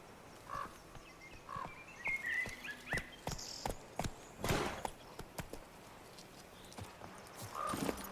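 Hooves clop irregularly on hard ground over several seconds in a Witcher 3 game, with occasional croaking and squeaky calls mixed in, fairly quiet and close.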